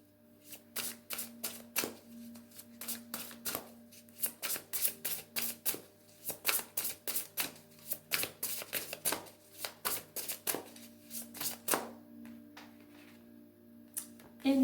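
Tarot oracle cards being shuffled, a long run of quick, crisp riffling flicks in irregular bursts, close and fairly quiet, with no talking over them.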